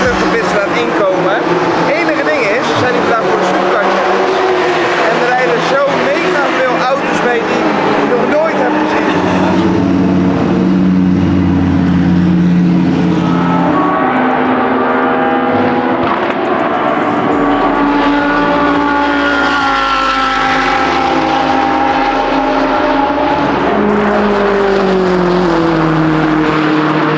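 GT3 race car engines whine and roar past in rising and falling tones, with a crowd-like din and a voice talking loudly over the top throughout.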